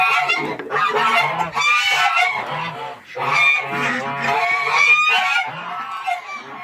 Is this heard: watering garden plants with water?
no